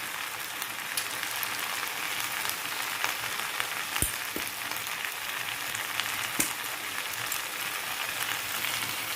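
Celery, onion and spices with basil and oregano fry in a pan for a pasta dish, giving a steady, soft, even sizzle with a few faint clinks and no talk.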